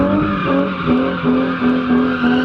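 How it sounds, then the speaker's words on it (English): Nissan 350Z drifting, its tires skidding in a loud continuous squeal with wavering pitch over a strained engine for the full stretch. "So now I gotta take it for one skid with Tyson in it?"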